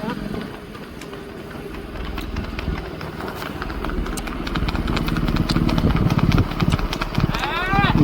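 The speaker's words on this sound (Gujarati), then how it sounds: "ઘોડીના પગનો તમને અવાજ સંભળાવું." Rhythmic hooves of a mare clip-clopping on a road alongside a running vehicle engine, with a voice talking over it; the pace grows steadier and louder toward the end.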